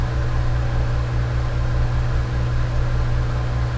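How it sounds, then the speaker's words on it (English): A steady low hum of airship engines with a rhythmic throb, constant and droning, filling the background with no voices. "You listen to the silence and the hum of the engines."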